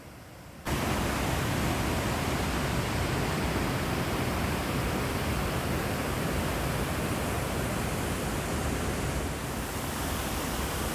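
Water of the Gimel cascades rushing down over rocks in a valley, a dense, steady roar that starts abruptly after a brief quieter moment and holds constant and close with no voices.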